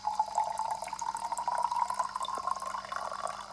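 Tap water runs steadily into the mop water tank of an Ultenic TS1 robot vacuum cleaner, a continuous close-up splashing fill with faint dripping and no talk.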